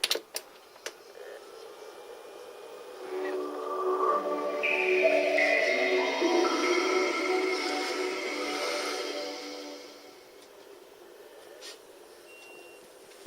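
Electronic Crazy Taxi video game sounds swell in as a cluster of bright synthetic tones and chimes, holding for several seconds before fading back to a quiet hum.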